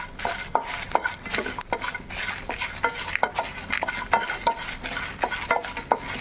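Ten to fifteen garlic cloves and red chillies frying in oil in a pan, stirred steadily with a utensil: repeated scraping clinks and taps over a soft continuous sizzle, close and fairly loud, with no talking.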